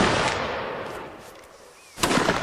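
Musket volleys fire in a Napoleonic-style video game battle, with a loud crackling volley that fades into the distance before a second sharp burst of gunfire near the end.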